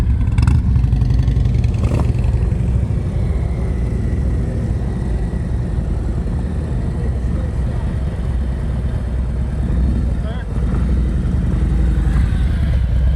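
Motorcycle engine chugging at low revs during an advanced slow-speed riding practice session in North Carolina, a loud steady rumble with slight throttle changes and occasional faint voices in the background.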